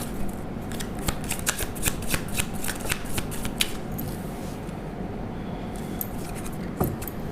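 Tarot cards shuffled by hand in a deck, a rapid run of crisp riffling flicks and rustles through the first few seconds, then softer, sparser handling, close and moderately loud with no talking.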